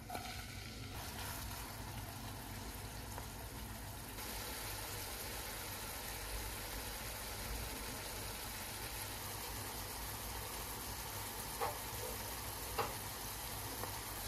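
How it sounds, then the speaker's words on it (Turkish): Continuous soft sizzling and crackling of chopped onions frying in oil, steady and fairly quiet, with a couple of faint clinks near the end. "Tavama yarım çay bardağı sıvı yağ koydum. Ve doğradığım yemeklik soğanı ilave ediyorum."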